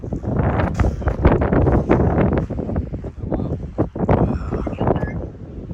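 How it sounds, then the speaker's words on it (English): Strong wind gusting across an outdoor microphone in Idaho, a loud continuous rumbling buffet with surging bursts and no clear speech. "it's windy as cheeks"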